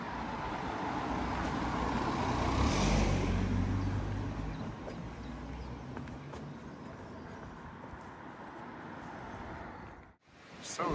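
Road traffic passing on a rural Cornish road near Penzance: a steady broadband roar of vehicles swelling as one draws close, then easing off into a quieter continuous hum.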